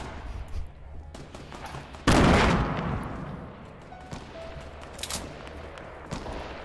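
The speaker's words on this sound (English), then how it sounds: "I'm just kinda chilling here because I'm surrounded by gunfire." A sudden loud burst of gunfire erupts in a Fortnite match, followed by scattered fainter shots and pops with game sounds.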